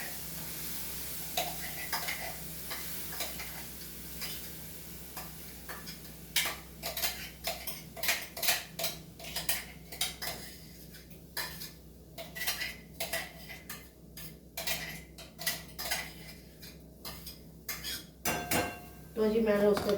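Onions stirred in hot oil in a pan, with a steady series of close metallic scrapes and clinks of a spoon against the pan over a quiet sizzle, growing busier toward the end.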